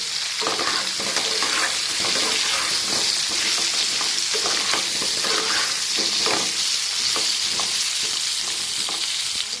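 Oil and turmeric fry hard in a pan for an ilish fish curry with potato and brinjal, a dense, continuous loud sizzle with quick scraping stirs running throughout and no one speaking.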